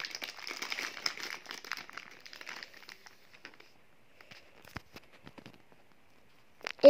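Tape is peeled off the packaging of a Nintendo Switch Pro Controller with soft crinkling and tearing rustles, busy at first, then thinning into sparse ticks and taps, with a sharper snap at the end.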